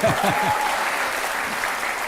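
A studio audience on a courtroom-style TV talk show claps steadily and loudly for Rajat, and a voice speaks briefly at the start over the applause.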